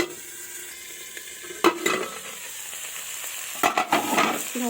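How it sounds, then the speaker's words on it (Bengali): Potatoes frying in a pan, a continuous sizzle broken by loud spatula stirs and scrapes, one burst early and a cluster of several near the end. "এইভাবে আমি আলুগুলোকে ভেজে নিচ্ছি"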